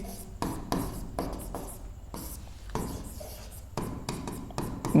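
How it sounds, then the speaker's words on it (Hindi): Pen writing on paper at close range, a run of scratchy strokes with short gaps between them, steady and fairly quiet, with no talking over it. "पहले परिभाषा में लिख दे रहा हूं।"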